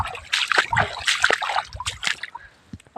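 Irrigation water splashes and sloshes in a farm channel as it is diverted with a spade, close, uneven splatters in short bursts with faint background sounds.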